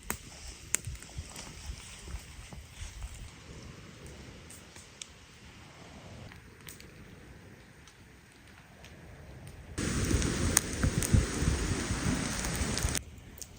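Rain falling in a forest during a camping trip, a soft steady patter that swells to a louder, heavier downpour for a few seconds before easing again, with no voices.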